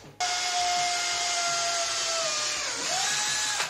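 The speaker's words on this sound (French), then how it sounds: "Je vais faire un avant-trou à environ 2 mm." Power drill boring a 2 mm pilot hole through two thicknesses of wood, a steady high motor whine lasting a few seconds, dipping briefly under load near the end before stopping.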